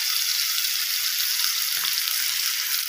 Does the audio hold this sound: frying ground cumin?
yes